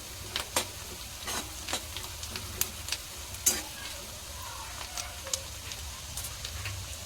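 Onion and cumin seeds frying in hot oil in a cabbage sabzi pan, a steady low sizzle broken by repeated sharp clicks and scrapes of stirring, fairly close and without talk.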